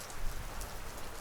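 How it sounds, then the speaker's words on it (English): Heavy rain falling steadily, a dense unbroken hiss of drops spread evenly across the moment, close and fairly loud with no voices. "The rain louder now, unfiltered by the barrier."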